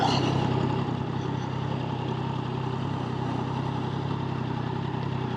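Triumph Tiger 660 Sport motorcycle engine idling steadily at close range after pulling over, a continuous low rumble with a slight dip in level early on, no talking.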